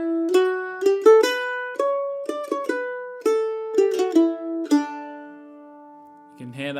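A mandolin plays a scale exercise in a Scottish Strathspey dotted rhythm, with clear plucked notes in uneven long-short groupings, close and alone, ending on a brief low sound.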